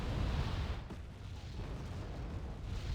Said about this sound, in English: That's 2 Eurogans firing, I believe.